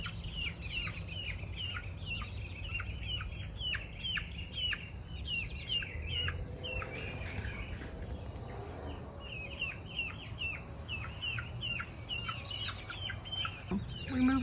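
Chickens in an outdoor chicken run cluck and chirp steadily in short repeated calls over a low rumbling background, moderately distant and fairly faint, with no talk.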